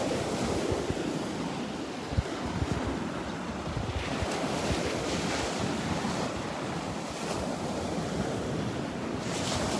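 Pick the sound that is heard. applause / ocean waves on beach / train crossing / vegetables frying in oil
ocean waves on beach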